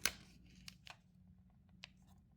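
Scissors cut paper for a scrapbook layout, making a few quiet, scattered snips in a short, otherwise hushed moment.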